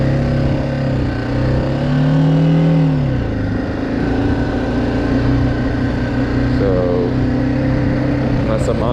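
A BMW G310GS motorcycle engine revs hard in first gear, its pitch rising steadily, dropping, then climbing again, loud and close throughout over a constant mechanical drone.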